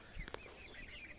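Short clucking calls from a blue-mottled rooster among young chicks, a couple of brief bursts near the start over a low, steady farmyard background.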